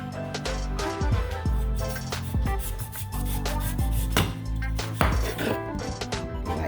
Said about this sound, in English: I'm gonna cut this back side off.